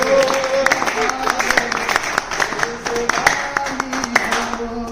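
An audience claps at a Hindi poetry recital (kavi sammelan) at a hotel New Year 2026 celebration, a dense, loud burst of applause throughout, with a voice speaking over it.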